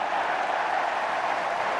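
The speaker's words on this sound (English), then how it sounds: "And the crowd loves that" Stadium crowd at a Washington vs Indiana college football game cheering after a catch, a steady broad roar with applause, dense and continuous throughout with no clear talk.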